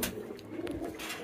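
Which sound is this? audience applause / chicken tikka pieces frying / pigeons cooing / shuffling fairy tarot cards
pigeons cooing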